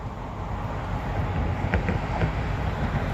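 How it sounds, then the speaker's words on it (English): A Via passenger train rumbles past at a distance, heard from the Galipeault Bridge, a steady low roar with a few faint metallic clicks from the rails, no talking. "There's a Via train coming as well."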